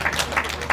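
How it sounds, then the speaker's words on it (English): Brief round of applause from the crowd at the Land Rover Burghley Horse Trials, greeting a rider after her dressage test; scattered clapping bursts, moderately loud and mid-distance, with no talk over it. "I think perhaps a little bit of a round of applause for their performance today."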